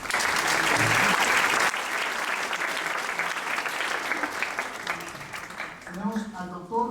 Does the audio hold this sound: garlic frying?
no